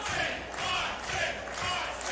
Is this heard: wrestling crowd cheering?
yes